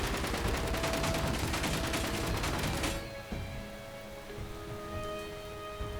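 Rapid gunfire from the video game Quest For Peas, a dense burst of loud crackling shots for about three seconds that cuts off abruptly, leaving a quieter background hum.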